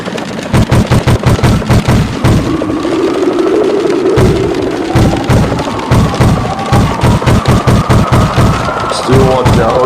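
Rapid machine gun bursts crackle in a VR carrier-based jet fighter game, repeated rattling volleys over a steady jet engine drone that shifts in pitch, loud and close throughout.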